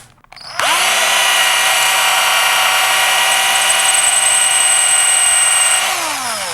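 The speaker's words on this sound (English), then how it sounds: "I'm going to drill a hole through like so." A power drill runs steadily as it bores a hole through a rock bead, a loud continuous whine that starts abruptly, holds its pitch for several seconds and then winds down.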